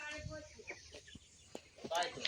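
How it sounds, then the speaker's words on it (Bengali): Chickens on a poultry farm cluck and call in scattered bursts, faint and somewhat distant, mixed with brief rustles. "এই দেখো ফার্মে কত মুরগি।"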